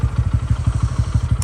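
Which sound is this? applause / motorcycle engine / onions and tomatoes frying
motorcycle engine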